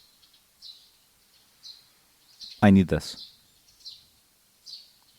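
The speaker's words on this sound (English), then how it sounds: "Listen to the birds chirp." Soft bird chirps from the video game ASTLIBRA repeat at a relaxed, even pace against a quiet backdrop, with a brief spoken remark cutting in partway through.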